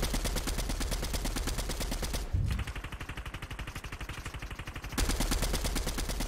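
Rapid automatic gunfire in a battle-royale shooter game, loud bursts of repeated shots dense from start to finish, with a short pause of steadier pulsing mid-clip before heavy firing resumes.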